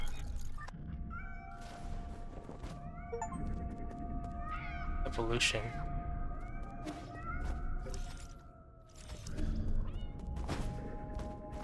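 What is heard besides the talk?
cats meowing in a video game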